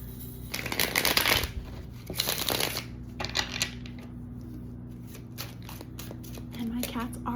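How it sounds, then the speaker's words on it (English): Loud riffling bursts of tarot cards being shuffled, repeated several times close by, with softer card taps and faint background hum between them. "No quiet way to shuffle these cards"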